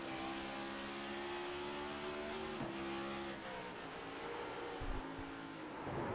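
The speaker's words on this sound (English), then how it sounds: "he was just kind of revving the motor a little bit, just trying to save it" Race car engine in the iRacing video game at Phoenix, a steady high-pitched whine that revs and blips down through gear changes, close and continuous with no talk.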